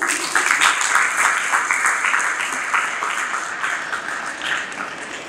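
An audience applauds a poet's lines, a steady wash of many hands clapping that holds for several seconds and slowly tapers off, with no talk over it.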